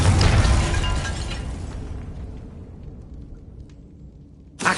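In Hogwarts Legacy, a Confringo fire spell bursts in a loud explosion that rumbles and fades over several seconds, followed by a short sharp burst at the end.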